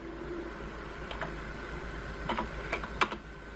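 Quiet keystrokes as a numerical entry is typed on a computer keyboard, a few scattered clicks that cluster toward the end, faint over a soft background hum with no talking.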